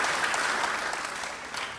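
A church congregation claps together in a dense burst of applause that holds steady and then tapers slightly.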